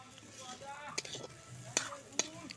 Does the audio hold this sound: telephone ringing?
no